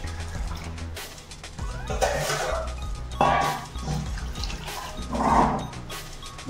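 Water pours into a pot of mung dal, cooked with papaya in a village-style Odia recipe, in three short splashing bursts over a low background hum.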